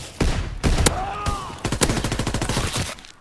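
Gunfire from the World War II shooter game Call of Duty WW2 in gun game mode: a few loud single shots, then a rapid automatic burst of evenly spaced reports, with faint voice-like tones in between.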